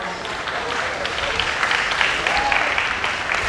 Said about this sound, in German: Einen großen Applaus für Imam Andrea Reimann